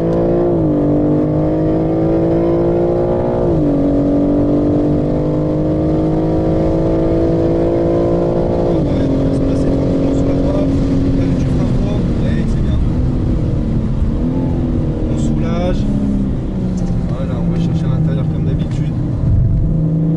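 A car accelerating on a wet race track, its engine note climbing steadily in long rising sweeps with a few brief dips as gears change, loud and close throughout, while someone talks over it.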